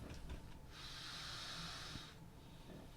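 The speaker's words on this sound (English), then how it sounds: "what is he snoring about over there?" A dog asleep in its dog bed lets out one long, soft snoring breath that swells and fades, faint and close with no voices.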